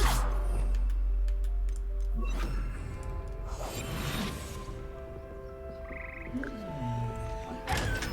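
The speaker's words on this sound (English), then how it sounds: "I heard a frog" A frog croaks in the Hogwarts Legacy game world, sounding amid clicks, ticks and whooshing effects that shift around over several seconds, with a steady low rumble underneath.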